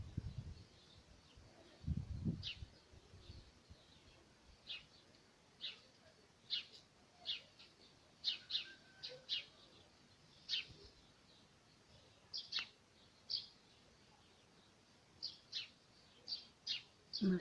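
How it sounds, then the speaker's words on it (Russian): A small bird sings in a rural village setting, giving short, sharp chirps and tweets at irregular intervals, some in quick clusters, fairly faint against a quiet background with a couple of low thumps early on. "Милая птичка."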